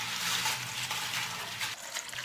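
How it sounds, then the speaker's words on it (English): Water poured into a pot holding onion peels, a steady close splashing gush that runs throughout with slight variations in flow and no talking. "I will pour water into the pot."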